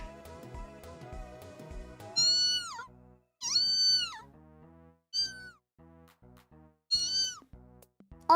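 A person imitates cat meows, giving several drawn-out, rising and falling mews in separate bursts over soft background music, each call loud and close.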